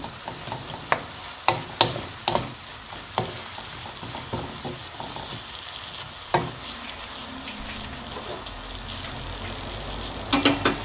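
Minced meat and vegetables fry in a pan with a steady, close sizzle, broken by sharp scraping clicks of stirring at irregular intervals throughout.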